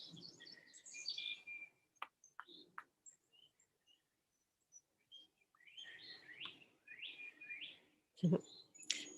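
Small birds chirp and trill in short, bright phrases, fairly quiet, with brief pauses between calls and a soft background.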